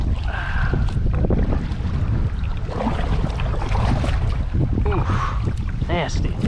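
A canoe is paddled across a small river on a windy day, with strong wind buffeting the microphone and water sloshing against the hull, while a voice speaks faintly in the mix.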